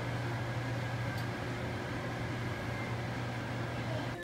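Microwave oven defrosting ground beef hums in a steady, faint, continuous drone with no other sounds.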